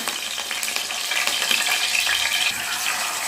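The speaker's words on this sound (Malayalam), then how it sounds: "എണ്ണ ചൂടായി കഴിയുമ്പോൾ അതിലേക്ക് നമുക്ക് കറിവേപ്പില ഇട്ട് കൊടുക്കുകയാണ്" Curry leaves dropped into hot oil in a pan for a Kerala fish molee crackle and sizzle up close, bursts of spitting over a steady frying hiss, no voices.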